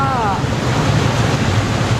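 Clear stream water in a valley near Scafell Pike in the Lake District, flowing on toward Wastwater, rushes in a steady, loud wash, with a brief voice at the very start.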